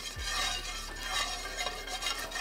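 Vegan beef stew ingredients are stirred together in a pan, a close, continuous scraping and sloshing with light clinks, no talking.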